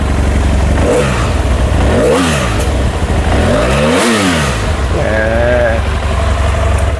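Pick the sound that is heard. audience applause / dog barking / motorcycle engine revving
motorcycle engine revving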